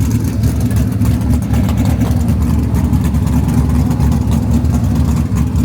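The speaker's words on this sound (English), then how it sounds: "I got right lane, and I'm gonna race this Mustang. Twin turbo." A C7 Corvette Z06 and a twin-turbo Mustang sit at a drag strip, engine noise filling the scene with a dense, steady low rumble that stays loud and constant throughout.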